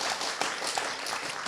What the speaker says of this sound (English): yes, applause for that